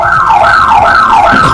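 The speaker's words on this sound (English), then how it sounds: "And triggering an alarm." A home security alarm set off during an attempted break-in wails loud and close, its tone sweeping up and down in a steady repeating cycle, alone with no voices.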